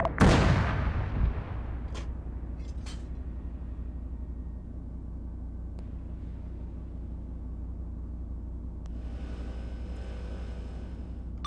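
A weapon fires at a tank during a training exercise, one loud, close, sharp blast at the start whose boom decays into a long rumbling tail over steady low engine-like drone, with a couple of faint later clicks.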